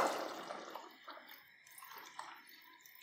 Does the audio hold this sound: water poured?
yes